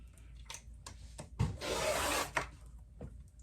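A blade trims the folded edge of flannel fabric along a ruler: one short rasping cut of about a second, framed by light taps and handling noises in a quiet room.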